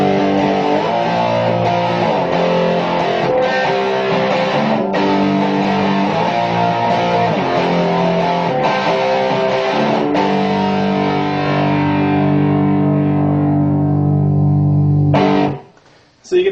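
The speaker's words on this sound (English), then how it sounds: "And here comes the Classic Distortion." An electric guitar played through a Classic Distortion pedal, blending overdrive and distortion, rings out in loud sustained chords and riffs for about fifteen seconds, then cuts off abruptly.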